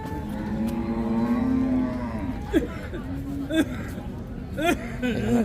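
Cattle moo repeatedly at Hazratpur cattle market, a long low call followed by several shorter ones, close and loud over a busy crowd murmur with people talking nearby.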